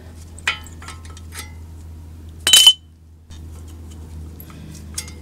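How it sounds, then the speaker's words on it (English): Worn brake pads slide out of the caliper of a 2001 Toyota Avalon with a few soft metallic clinks and one sharper scraping clatter, close by in a quiet setting. "now we can pull out the old pads"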